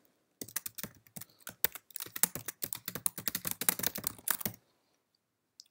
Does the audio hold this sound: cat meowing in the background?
no